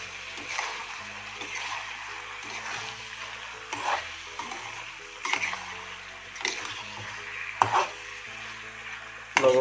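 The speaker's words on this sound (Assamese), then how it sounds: "এতিয়া যিখিনি বিলাহি কাটি লৈছিলোঁ এটো মই ইয়াত দি দিছোঁ তে বিলাহিখিনি সম্পূৰ্ণ ইয়াত গলিব দিম" Chopped tomatoes cooking down in a pot for a pork boil made without oil or spices, with repeated stirring scrapes and a soft steady sizzle, close and moderately loud.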